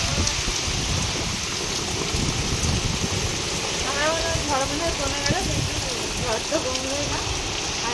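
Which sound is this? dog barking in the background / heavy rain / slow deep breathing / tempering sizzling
heavy rain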